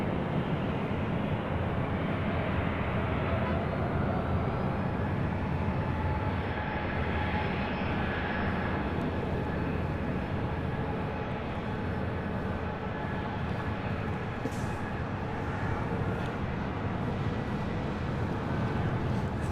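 A United Airlines Boeing 757-300 airliner arriving at LAX from Chicago O'Hare produces a steady, fairly distant jet roar that holds evenly throughout, with no talk over it.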